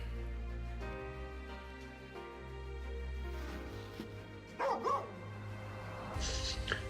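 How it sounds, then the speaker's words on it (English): A dog in the Final Fantasy XV video game gives a couple of short barks, one burst midway and another near the end, over steady in-game music. "Why did I hear barking?"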